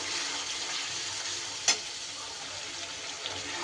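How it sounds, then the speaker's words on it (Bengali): Spices frying in a pan for a fish and bottle gourd curry hiss in a steady close sizzle as a small splash of masala-bowl rinse water goes in, with one sharp crackle near the middle. "এবার মশলার বাটি ধোয়া জলটা খুব সামান্য আমি এখানে অ্যাড করে দিলাম"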